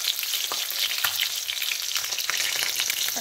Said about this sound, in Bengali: ডিমটাকে আমি ভেজে নিচ্ছি, ডিমটা আমি ভাজা আসছি।